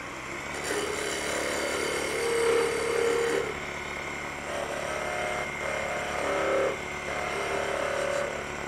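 A wood lathe spins a spatula blank while a 3/8 spindle gouge cuts a small bead, giving a steady motor hum with intermittent tonal scraping as the tool engages and lifts off, moderately loud and without speech.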